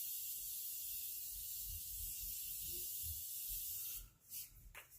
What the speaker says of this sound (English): So let's finish it with some finishing spray.